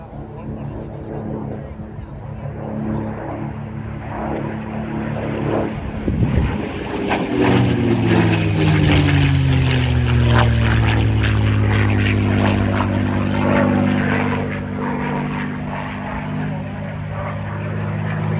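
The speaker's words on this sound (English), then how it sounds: "We have a Mustang inbound from the right." A Mustang fighter aircraft passes at the Midlands Air Festival, a loud propeller engine drone that swells as it nears, with a Doppler pitch drop as it goes by, while an announcer talks over it.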